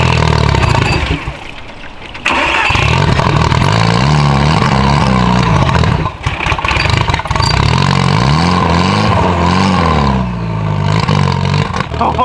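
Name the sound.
purple car engine starting and revving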